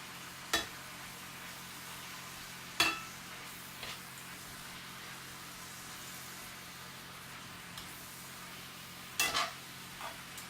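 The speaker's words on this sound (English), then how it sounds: "now we're going to take our tongs, go ahead and mix that up a little bit" Tongs toss cooking greens in a pan, giving a few sharp metallic clicks and scrapes spaced out over a quiet, steady background hiss, close and otherwise calm, with no talking.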